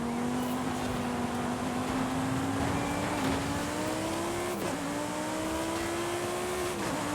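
A Lamborghini Huracan EVO's engine races in Forza Horizon 5, a steady high-revving drone that climbs gradually with brief dips at gear shifts, loud and continuous with no talking.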